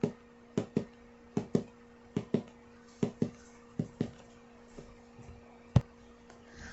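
Fingers thump on top of a cardboard Jenga box as a foley heartbeat, a steady run of soft, close knocks falling in paired beats with short pauses between them.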